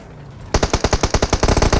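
Automatic gunfire in the mobile battle royale game PUBG Mobile bursts in after a quiet moment, a loud rapid stream of evenly spaced shots continuing to the end.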